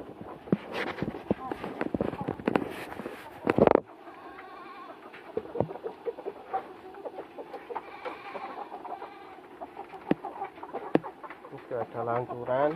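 Chickens cluck and call around a farmyard, with other livestock bleating and a person talking at times; a loud burst of noise comes early.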